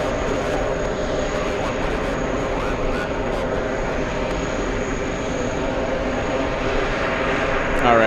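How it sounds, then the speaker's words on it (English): Steady jet engine whine and rumble from a Virgin Atlantic Airbus A350 taxiing to its gate at JFK, heard fairly close and constant, with a voice talking over it. "This is an empty A350 Virgin Atlantic, parking at gate 3."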